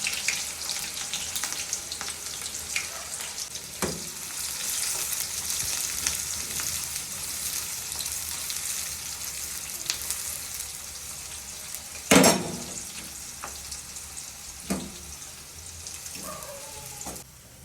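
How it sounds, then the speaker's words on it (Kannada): Chopped onions frying in oil in a pan for tomato gojju give a steady, close sizzling hiss throughout, with a few soft stirring clinks and one sharper knock partway through. "ಫಸ್ಟ್ ಆಯಿಲ್ ಹಾಕಿಬಿಟ್ಟು ನೆಕ್ಸ್ಟು ಆನಿಯನ್ ಹಾಕಿ, ಕಟ್ ಮಾಡಿರೋ ಆನಿಯನ್ ಹಾಕಿ"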